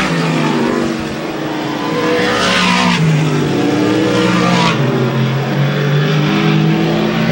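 Dirt modified race cars at a dirt speedway in Plattsburgh, NY roar past continuously, engines loud and close with revving surges and shifting pitch as the pack passes, during a late-lap race.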